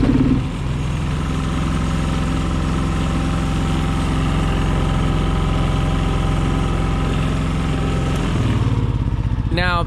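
A Yamaha EF4500iSE inverter generator, freshly repaired after a no-start fault, starts up and runs at a steady, loud idle. Its engine hum holds for several seconds, then shifts pitch near the end.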